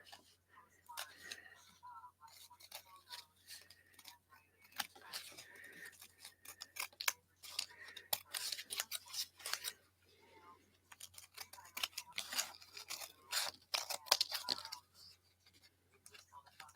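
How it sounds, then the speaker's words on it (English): Scissors snip away excess paper in crafting work, close and crisp, with repeated quick cuts in irregular bursts and short pauses between them. "Cut off all the extra."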